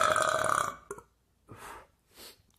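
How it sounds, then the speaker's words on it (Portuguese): Several burps from a man: a loud drawn-out belch first, then two softer, breathy burps spaced apart, close and alone with no talk. "É, eu arroto mesmo"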